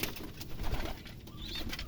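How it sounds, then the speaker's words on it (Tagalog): Pigeons kept by a breeder cooing softly in a loft, with a brief flutter of wings, a low, close murmur of coos over quiet background. "Ibon mga kalapatids."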